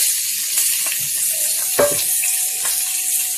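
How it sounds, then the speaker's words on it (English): Ground meat sizzles steadily in olive oil in a pan, a loud continuous hiss broken by a few clinks and stirring sounds. "add some olive oil to our pan here, and we'll go ahead and put our meat in"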